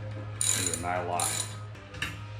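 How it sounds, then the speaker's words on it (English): Torque wrench being set and clicked while fastening a GenY gooseneck hitch, with a few sharp ratcheting clicks over a steady low hum, close and fairly loud. "The torque wrench."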